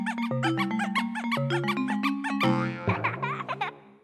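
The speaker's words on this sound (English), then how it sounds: "if you hold Z on the first controller while the system turns on, the sound changes into a squeaky version" Squeaky variant of the Nintendo GameCube startup sound, triggered by holding Z on the first controller at power-on: a rapid run of bright, bouncy chime notes over a steady tone, then a shimmering swell and a chirpy, squeaking finish, loud and alone.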